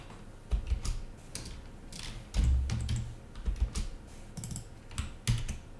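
Project name typed on a computer keyboard, a quick irregular run of close key clicks with short pauses between bursts.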